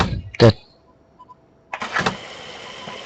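A heavy truck engine cranks over and fires up in the game Euro Truck Simulator, a short mechanical clunk followed by a pause and then a rising rumble of the engine starting, heard close and moderately loud.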